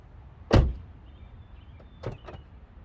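The driver's door of a 2010 Toyota Camry XLE shuts with a single sharp thunk, followed a moment later by a couple of lighter latch clicks, close up in a quiet setting.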